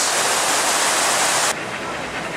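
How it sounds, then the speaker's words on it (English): Water pouring into the 9/11 memorial waterfall pool in New York, set in the footprint of one of the original towers, a loud steady broadband rush that drops slightly in level near the end. "this is one of the waterfalls based on the footprint of one of the original towers"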